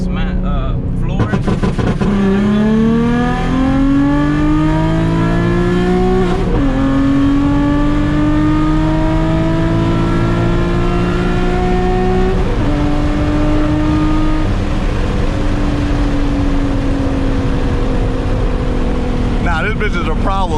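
A tuned E85 Nissan 350Z HR with about 325 wheel horsepower accelerating hard at full throttle, engine note climbing through several gears with brief shift breaks, loud and close from inside the car, with voices talking over it.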